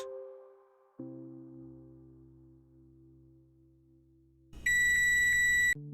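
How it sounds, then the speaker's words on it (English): Multimeter continuity beeper on a 1990s toy camera's circuit board: a steady, loud electronic tone lasting about a second near the end, after quieter low hum and clicks of probing. "let's confirm that with the multimeter"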